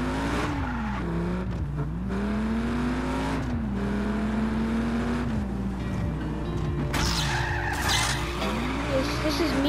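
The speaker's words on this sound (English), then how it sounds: "This is me trying to throttle control something, as well as drifting." A car in the video game Just Cause drifts and skids, its engine droning and rising and falling in pitch with throttle changes under ongoing tire noise, while a voice talks over it at times.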